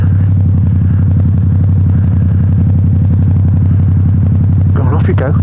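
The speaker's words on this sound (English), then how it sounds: "I wonder if I can impress it with a rev bomb under the bridge." Loud, steady motorcycle engine rumble in a video game, droning low and continuous under the bridge, with a brief clattering burst near the end.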